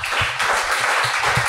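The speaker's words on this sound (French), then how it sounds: "On peut les applaudir." Audience applause at an evening afterwork networking event in France, steady dense clapping filling the whole short stretch at close range with no talk over it.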